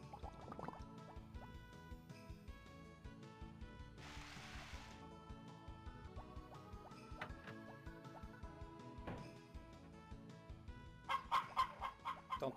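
Farm chickens in the game Harvest Moon: Back to Nature, clucking in scattered bursts over a steady backdrop of game music, with a brief hiss midway and livelier clucks near the end.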